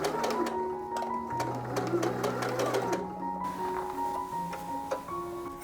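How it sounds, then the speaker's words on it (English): A sewing machine stitches down pleats on a pair of shorts in quick, rhythmic bursts of needle clatter, close and fairly loud, with a short pause partway through. "I'm just sewing down here and pressing"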